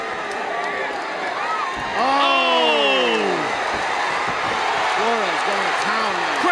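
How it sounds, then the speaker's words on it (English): Fight crowd at a Reality Fighting MMA event roaring and cheering for Tim Flores, a loud, sustained swell with an announcer talking excitedly over it. "Crowd is exploding for Tim Flores"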